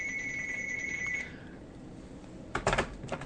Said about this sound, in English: No, I know the phone's ringing.